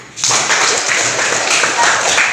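Students in a school classroom clap together in a steady, dense patter right after a short lead-in, the applause loud and close, with some voices mixed underneath.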